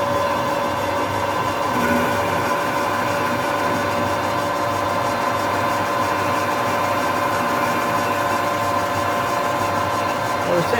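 Metal lathe on a custom Harley-Davidson front-end fitting job, running in a faster gear with a steady, loud mechanical drone and hum that stays constant throughout, no talk over it.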